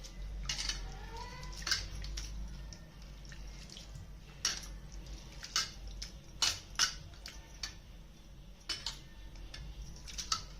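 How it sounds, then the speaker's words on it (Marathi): Flattened rice (poha) being washed in water, a sparse run of soft splashes and sloshes with quiet drips between them, close but faint, no talk. "आता हे स्वच्छ धुवून घ्यायचे"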